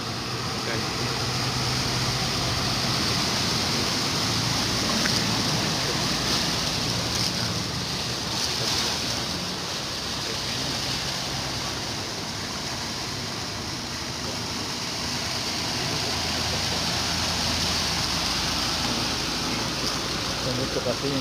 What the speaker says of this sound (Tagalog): Pumutok kasi yung linya ng tubig ng kapitbahay kaya ganyan.